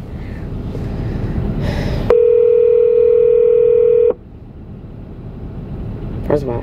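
A phone call tone sounds as a steady, loud electronic tone held for about two seconds over background noise, with brief clicks before and after; a voice is faintly present.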